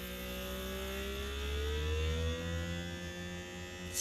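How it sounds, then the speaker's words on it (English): A Foodsaver handheld vacuum sealer runs with a quiet, steady motor hum and a faint whir that drifts slightly in pitch over a few seconds, with no talking. "Foodsaver, take off this piece, your nib inside the hole, and you're going to vacuum seal just like you did before."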